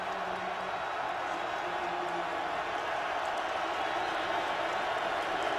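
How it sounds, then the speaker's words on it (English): Packed 71,200-capacity stadium crowd at a Washington Huskies college football game against Oregon, a steady broad roar of cheering and applause from the whole stands, continuous and unbroken, with faint commentary underneath. "listen to this crowd getting behind their Husky"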